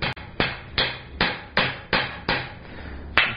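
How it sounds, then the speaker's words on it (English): A smaller rounding hammer strikes hot metal while curling the end of a forged coat and hat hook, eight sharp ringing blows in an even, steady rhythm, close and loud. "I've got the round side of my smaller rounding hammer here, and I'm pushing it out and give it a little curl."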